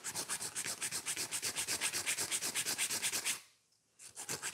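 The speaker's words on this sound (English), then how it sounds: "So that's 100 by 180 grit file, and I'm filing 100 grit." Rhythmic rasping of a 100 grit file on a sculpted gel nail, quick even back-and-forth strokes up close, a brief pause, then the filing resumes.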